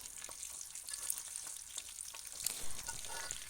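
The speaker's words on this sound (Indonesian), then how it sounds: "Kemudian kita goreng kabaunya sampai benar-benar garing," Kabau (dogfruit) deep-frying until crispy in oil left from sautéed chili, a steady close sizzle and crackle with scattered pops and a brief stir near the end, no voices.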